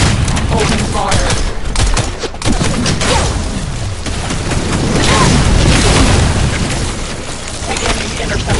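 Dense gunfire and booming blasts in the shooter game The First Descendant, a loud continuous barrage of rapid shots and explosions with a voice speaking under the din.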